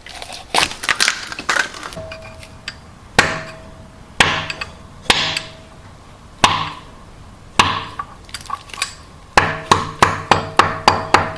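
Sharp metallic hammer blows drive an old pilot bearing out of a Mazda/Ford Ranger, loud and close, spaced singly at first, then a rapid run of evenly paced strikes at the end.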